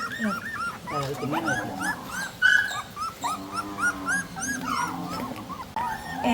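A litter of eight puppies whimper, whine and yip in quick, overlapping, high-pitched bursts, close and busy throughout.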